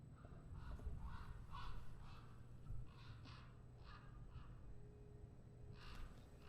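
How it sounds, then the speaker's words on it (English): A bird calls indoors in a series of repeated harsh, caw-like bursts, moderately loud in the room over a steady low background hum, with no talking. "Sound like a bird in here."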